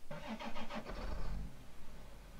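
A tractor engine cranks with quick rhythmic turns, then catches into a low rumble, heard at moderate distance.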